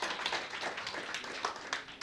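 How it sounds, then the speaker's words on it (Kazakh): Light, patchy audience clapping at a stand-up comedy show, with scattered hand claps rising and falling unevenly and no talk over it. "Бейшара шапалақтар кетіп отырған."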